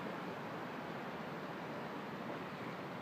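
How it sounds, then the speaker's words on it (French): A mountain stream flows beside a hiking trail, heard as soft, continuous broadband rushing that holds steady and stays fairly faint. "Encore un ruisseau."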